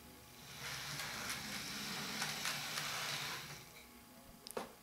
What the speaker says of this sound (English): And this is the engine going backwards.